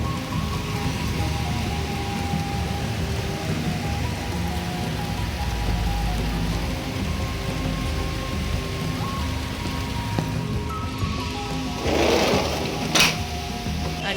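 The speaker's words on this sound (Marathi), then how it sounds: "आज येणे इतका छान पाऊस पडतोय ना" Monsoon rain falls outside a home in Nashik as a steady, dense hiss that goes on without a break, with a brief clattering burst near the end.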